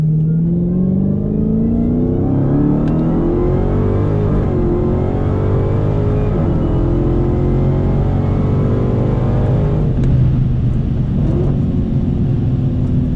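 A loud Dodge Challenger Hellcat Redeye engine revs and roars steadily at a drag strip, failing to hook, pitch sweeping up and down through repeated acceleration, close and continuous with no voices.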